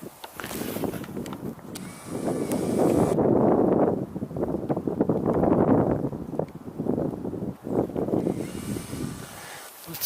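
Cold wind gusts outdoors, buffeting the microphone in rough surges that swell and fade across the whole stretch, loud and close with no voices.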